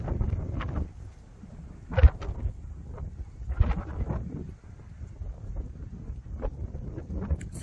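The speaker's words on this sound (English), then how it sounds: "It's just way too windy" Strong wind batters the microphone outdoors in low, rumbling gusts that swell and fade over several seconds, loud and buffeting with no talk.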